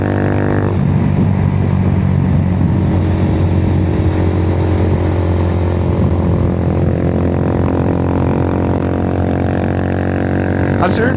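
A loud 2022 Honda Grom motorcycle engine drone with steady harmonic hum runs throughout, close and continuous, heard while riding through a helmet microphone.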